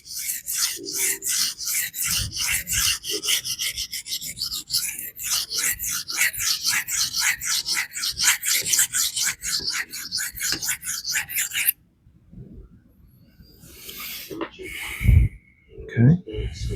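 Steady rasping strokes of a Shan Zu Peafoul EDC knife drawn across a cheap 1,000-grit diamond sharpening plate, repeated rhythmically and close, then a pause followed by a few brief handling sounds.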